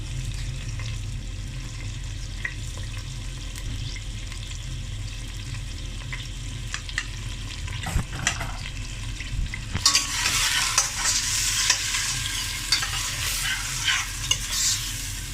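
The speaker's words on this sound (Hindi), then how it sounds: "और अब मैं इसमें ये है एक बड़ा साइज़ का जो प्याज मैंने लिया है वो डाल रही हूँ" Roughly chopped large onion sizzling in hot oil with cumin seeds, a steady close fry that turns brighter and louder partway through as the onion hits the pan, with scraping stirs throughout.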